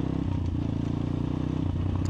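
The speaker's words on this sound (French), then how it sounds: "c'est une trop belle sonorité ces motos là" An Apollo 150 RXF-E motorcycle engine runs steadily nearby, a loud, rapid low thrum with a slight clattering texture and no talk over it.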